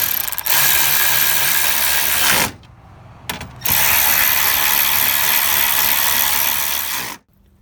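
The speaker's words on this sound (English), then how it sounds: "Once you get your 5 screws back in place here, then you can start tightening them." A power ratchet tightening 10mm screws on the grille of a 2020 Chevy Suburban: two loud, sustained close-up buzzing runs with a brief quiet break between them, then an abrupt stop.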